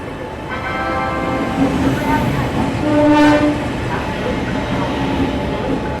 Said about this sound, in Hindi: ये देखो यहाँ पे अराइवल हो रहा है तेजस एक्सप्रेस का